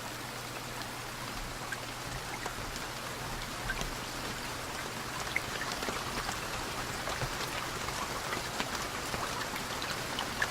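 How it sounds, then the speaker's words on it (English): Steady rain in the survival video game BugOut patters evenly with scattered drops striking a surface, a continuous moderate hiss with no voices. "Seems to rain here a lot."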